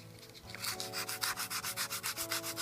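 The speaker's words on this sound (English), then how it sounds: "Sand the surface of the dial." Sandpaper is rubbed by hand across a wooden dial for a safe, making a close, rhythmic scratchy rasp in quick regular strokes.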